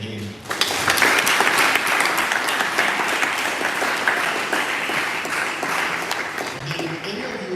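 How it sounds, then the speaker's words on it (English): An audience at a summit breaks into loud, sustained applause for the leader, dense clapping rising sharply and holding steady for several seconds with faint voices underneath. "please clap for the leader again."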